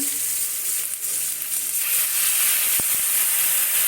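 Onions frying in a pan as a little water goes in, a steady loud sizzle and hiss with steamy crackle, a couple of sharp clinks near the end, no talking.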